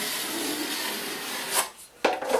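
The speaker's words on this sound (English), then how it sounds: "It takes a bit of a feel as your mud comes off your trowel. You feel as you're spreading it, and then you feather this edge" A drywall trowel spreads and feathers joint compound across a wall in one long, soft scraping stroke, close and fairly quiet, ending in a few brief scrapes.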